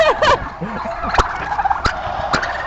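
A turkey gobbles loudly and close, a rapid warbling burst at the start followed by shorter calls and a few sharp clicks.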